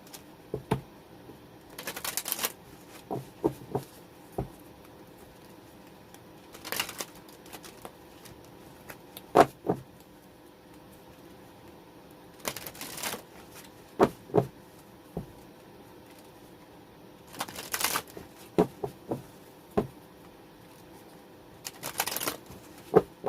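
Angel Answers oracle cards shuffled by hand in quiet bursts of riffling and flicking, repeated several times with soft taps and pauses between, close and fairly faint.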